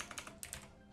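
A burst of typing on a computer keyboard enters a server update command on Linux, with about a second of quick, light, close keystrokes.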